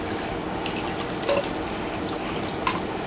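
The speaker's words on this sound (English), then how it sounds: "So once it starts bubbling, which is already done, pour in my slurry and keep stirring this around." A cornstarch slurry bubbling and being stirred in a Power Pressure Cooker XL, soft continuous simmering fizz with a few brief spoon scrapes and pops close by.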